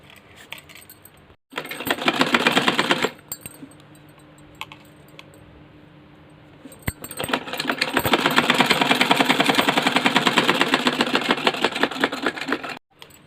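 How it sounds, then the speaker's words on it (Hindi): An electric sewing machine stitching a petticoat, running in two loud, fast, rhythmic bursts separated by a quieter pause with faint handling sounds. "यहाँ पर हमें सिलाई करनी है।"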